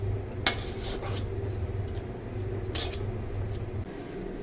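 Utensils clink and scrape against plates and pots as home-cooked rice and local meat are dished out, a few brighter metallic taps rising over a steady low kitchen hum, with no talking.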